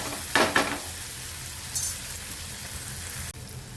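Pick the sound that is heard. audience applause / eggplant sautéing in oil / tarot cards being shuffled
eggplant sautéing in oil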